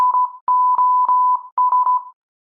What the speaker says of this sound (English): SOS in the Morse code.